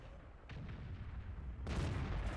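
Tank cannon fire in the World of Tanks video game: a low rumbling background swells into a loud, broadband blast near the end of the short clip, with no talk.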